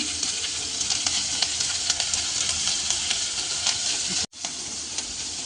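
Cumin and crushed fennel seeds sizzling steadily in hot oil while tempering a soup, a dense close frying crackle holding throughout with one brief break near the end.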